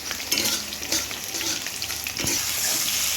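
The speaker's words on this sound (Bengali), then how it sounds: "এখানে ধনিয়া, গোটা জিরে, গোটা শুকনো লঙ্কা, তেজপাতা, চারমগজ আর কাজু ভাজছি" Whole coriander seeds, cumin, dried red chillies, bay leaf, melon seeds and cashews dry-fry in a pan, giving a close hissing sizzle broken by scraping stirs, without any talking.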